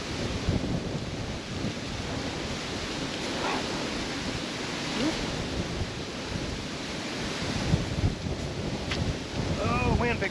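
Wind gusts outdoors beside a campfire, buffeting the microphone in a continuous rough roar that swells and eases over the whole stretch.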